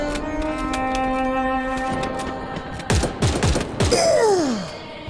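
Bursts of rapid gunfire in the Free Fire video game cutting across a sustained music-like tone, rattling volleys close and loud, with a falling whooshing sound near the end.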